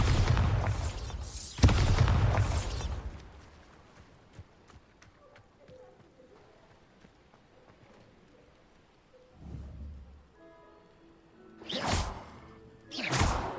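Bombarda spell cast in Hogwarts Legacy: a loud, booming whooshing blast at the start fades into faint crackling debris, then further swishing bursts of magic erupt near the end.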